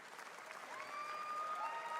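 Crowd cheering and applause at Summer Game Fest, a steady roar of a large audience holding at moderate loudness, with a faint, distant voice over it.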